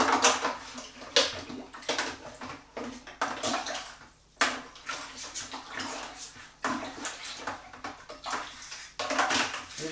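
Sterilising liquid sloshed and splashed around the inside of a homebrew fermenting vessel while making stout, giving broadband wet swishes in repeated bursts, close and fairly loud, with no talk.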